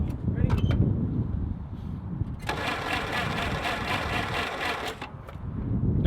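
A 1948 Willys Jeep engine cranks over during a compression test, a steady rhythmic churning of the starter running for a few seconds before cutting out, close up, with voices talking before and after.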